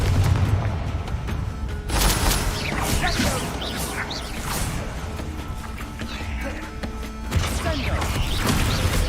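Confringo fire spells from Hogwarts Legacy, the wizarding video game, explode repeatedly in a busy combat scene, booming bursts and crashes layered over constant game noise, with a voice speaking at times.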